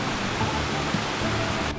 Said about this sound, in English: There's a bit more falling water.